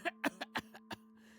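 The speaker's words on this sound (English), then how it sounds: "I cough again, another long wet trail dripping from my lips." A series of six short, wet, phlegmy coughs in quick succession, close and fairly quiet, followed by a faint breathy tail, over a steady low hum.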